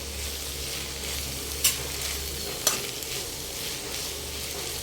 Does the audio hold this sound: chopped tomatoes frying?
yes